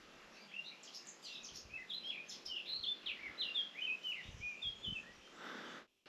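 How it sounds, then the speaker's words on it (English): Several birds chirp and tweet in quick, bright bursts against a quiet outdoor background in an abandoned village in Asturias, Spain, with a few soft thumps underneath. "You can only hear birds."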